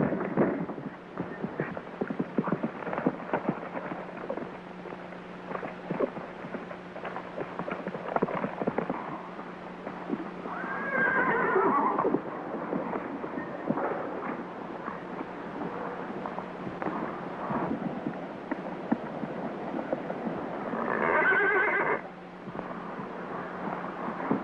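A spirited, ornery horse in a 1935 film serial whinnies twice, with shrill neighs rising about midway through and again near the end over steady hoofbeat-like clatter and the hiss of an old soundtrack.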